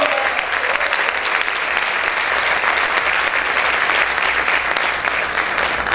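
A church congregation claps loudly and steadily, a dense, continuous wash of many hands filling the room from start to finish.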